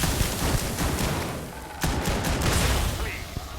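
Gunfire in Starfield, a rapid fusillade of shots cracking over a constant loud rumble of game noise, with a voice talking over the shooting.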